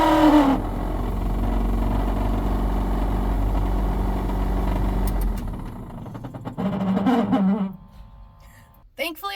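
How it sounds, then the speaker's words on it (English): Failing blower motor in a 1973 Ford F100 pickup running with a steady droning hum and faint rattle for several seconds, then cutting off as someone talks. "A tall tale sign to see if your blower motor is going out is if it sounds like this."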